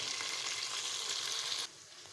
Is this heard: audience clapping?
no